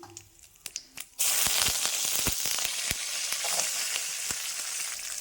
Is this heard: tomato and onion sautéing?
yes